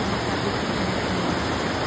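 A loud, steady roar of rushing water fills the clip, constant and broadband like a nearby waterfall, with no voices, at a falls in Quezon, Nueva Vizcaya.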